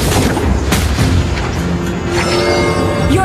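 A turret explosion booms loudly in Mobile Legends amid dense game effects and music, with a few sharp impacts and a rising tonal sweep near the end.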